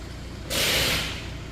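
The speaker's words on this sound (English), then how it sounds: "There's the machine, look, it's spinning around and it's doing its calculations" Tyre wheel balancing machine spinning up after a punctured tyre is fitted, a sudden broad airy whoosh that swells for about half a second and then slowly fades, heard close and without talk.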